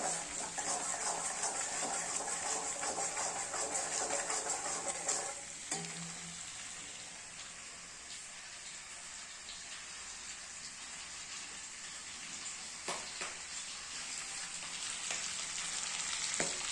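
Liquid in a pot on a stove set to high heat, boiling and foaming with a steady hissing, bubbling roar that dips briefly in the middle, then rises again, close and continuous with no talk.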